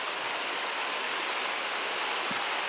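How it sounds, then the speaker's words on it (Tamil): Chicken leg gravy simmers with added water over a slow flame, giving off a steady, soft hiss of bubbling that carries on evenly, heard close and with no one speaking. "தண்ணி சேர்த்து ஒரு 20 நிமிஷம் ஸ்லோ ஃப்ளேம்லேயே கொதிக்க விடுங்க."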